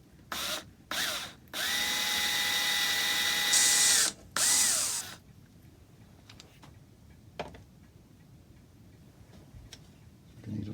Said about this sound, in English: I'm going to drill a 3mm hole in and just put a dowel in